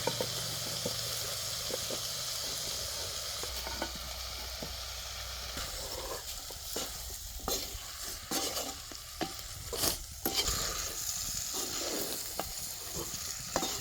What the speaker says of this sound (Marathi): आता मिरच्या ह्याच्यात टाकायच्या